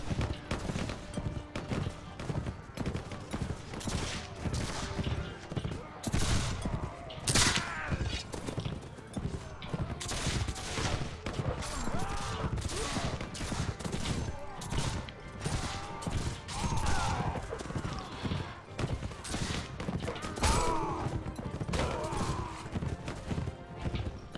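Musket volleys and scattered gunfire in the Mount & Blade With Fire & Sword video game, dense and continuous, mixed with a cavalry charge of galloping hooves and battle clamor, loud throughout.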